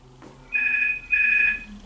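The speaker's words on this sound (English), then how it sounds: "As you just heard, the phone just went." A telephone rings indoors in two electronic bursts, a steady warbling tone, then a short pause and a second ring, clear and fairly near with no talk over it.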